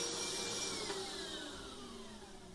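A steam vacuum runs steadily with a continuous whining drone and broad hiss, close and loud. The sound fades slightly as it goes on, and no one speaks.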